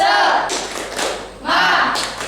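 A school group does rhythmic spirit clapping, tepuk semangat, with a few bursts of unison claps and thumps, close and loud, alongside shouted voices.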